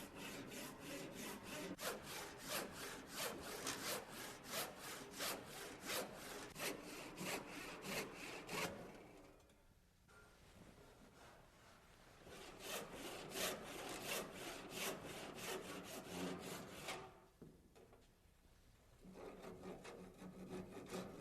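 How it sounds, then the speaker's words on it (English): Sharp 12-point crosscut hand saw cutting through a wooden stair stringer, fast even push-pull strokes in two long bursts separated by a short pause, close and clear with no voices. "I'll make the cut with a sharp 12-point cross-cut saw"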